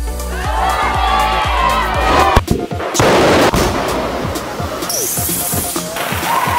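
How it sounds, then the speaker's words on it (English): A loud liquid nitrogen explosion bursts out amid a cheering, shouting crowd, with a sharp blast near the middle followed by a broad rushing roar and continued crowd noise. "And that is a liquid nitrogen explosion"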